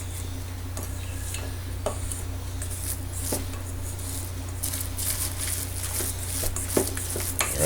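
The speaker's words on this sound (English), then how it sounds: "Just to scrape whatever flour may have stuck to the side of the bowls." Flour is scraped from the side of a bowl of grated potato mixture for German potato pancakes, making soft scraping and stirring with light clinks of utensil against the bowl, close and quiet over a low background hum.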